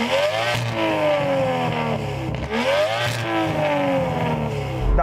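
An Aston Martin engine revs loudly and close by, two strong sweeps up and back down in pitch with a steady rumbling idle between them, at a gathering of classic Aston Martin cars.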